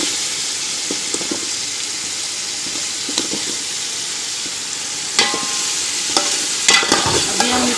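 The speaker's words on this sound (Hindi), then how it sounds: "अभी हम इसको थोड़ी देर के लिए भूनेंगे।" Potatoes for matar pulao fry in hot oil with an even sizzle, while a spoon scrapes and stirs the pan in scattered bursts that grow busier toward the end.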